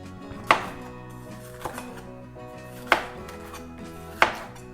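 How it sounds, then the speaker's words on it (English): Close knife chops on a cutting board as green bell peppers are sliced, four crisp strikes spaced unevenly with a low hum beneath. "All right, so my bell peppers are chopped."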